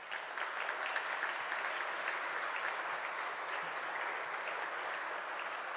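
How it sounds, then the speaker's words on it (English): Audience at a European open source awards ceremony giving sustained, even applause, a steady dense wash of clapping heard at moderate distance with no speech over it. "Big applause for them, please."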